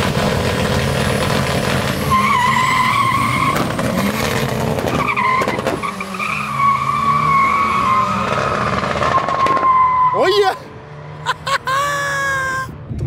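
A newly configured, more powerful naturally aspirated drag racing car launches at a drag strip, its engine roaring loudly and continuously with squealing tires, then the tone shifts sharply as it pulls away.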